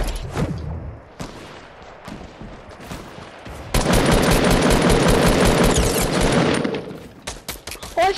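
Rapid gunfire fills a Fortnite match, scattered shots at first and then a dense, loud burst of automatic fire that runs for several seconds before breaking into a few final shots.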